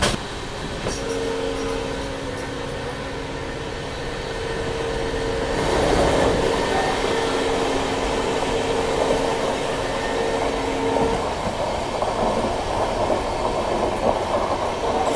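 The Somnath Ahmedabad Intercity Express runs on its tracks with a steady rolling rumble and droning hum that grows louder midway, continuous throughout without speech.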